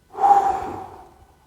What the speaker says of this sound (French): Tu peux faire la fameuse respiration là, en 4, 7, 8, la cohérence cardiaque.